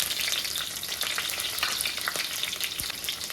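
Ginger, garlic, green chillies and curry leaves fry in hot oil in a pan for a Kerala-style sardine curry, giving a steady, dense sizzle with faint stirring scrapes throughout, no voices.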